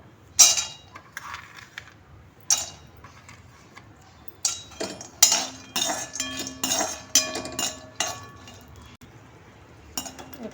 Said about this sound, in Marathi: यातच आपण काजू टाकणार आहोत